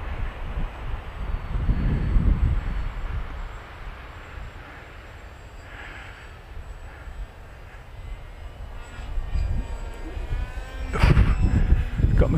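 A 3D printed Craycle Discover model plane in flight, its small motor buzzing as it moves nearer and farther, with gusts of wind and louder bursts near the end. A voice is faintly heard at times.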